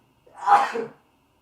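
A single short sneeze from a person, close and clear, rising and fading within about a second against otherwise quiet surroundings.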